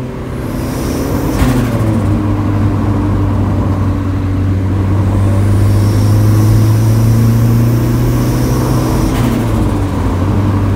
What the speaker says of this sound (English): that's the exhaust leak right there